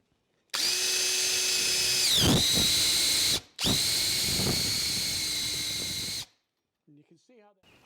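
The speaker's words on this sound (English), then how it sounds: "then I'm going to move to my 3/8 bit using my centering jig here" Electric drill boring a 3/8 bit through a polyethylene board, set in a centering jig in a workshop: two loud, close whining bursts of a few seconds each, separated by a brief pause, with pitch dips as the bit bites, then silence.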